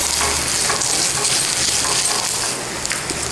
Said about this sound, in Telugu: ఈ కొబ్బరిని ఈ ఆయిల్లో కొంచెంగా వేగనియాలి